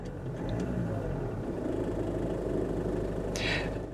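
A Land Rover Freelander 2's 2.2-litre diesel engine idles close by with a gruff, steady clatter and low rumble; a short hiss of air near the end.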